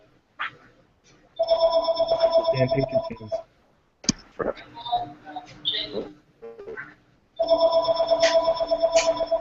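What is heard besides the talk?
phone ringing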